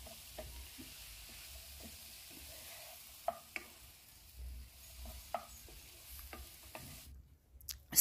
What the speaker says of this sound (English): Stir fry it for some few minutes, like 2 to 3 minutes.